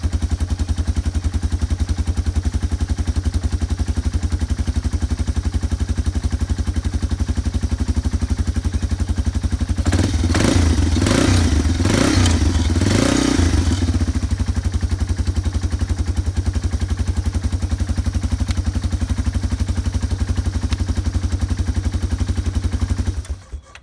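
Small ATV engine idling steadily without choke after a carburetor cleaning, a loud continuous close putter, with a short burst of revving and clatter midway before settling back to idle.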